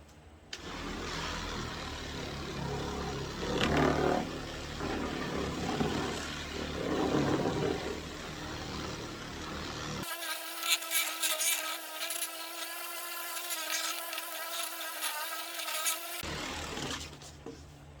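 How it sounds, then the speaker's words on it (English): An orbital polisher runs with a steady mechanical whir, close and fairly loud, and its tone shifts sharply partway through to a brighter, higher-pitched hum before dropping back. "I'll just take this orbital polisher and just kind of work it in a little bit"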